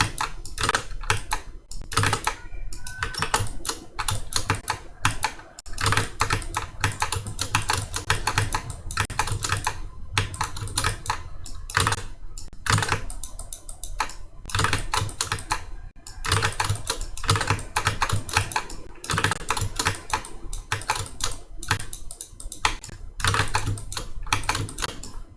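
Someone types on a computer keyboard in rapid, continuous clatters of key clicks with brief pauses between bursts, close and steady throughout with no talk.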